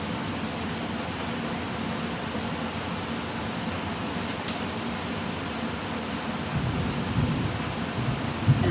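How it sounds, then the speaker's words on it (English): Thunder rolls as a low, continuous rumble under steady rain, moderately distant and even throughout, swelling slightly near the end, with no voices. "And the thunder rolls."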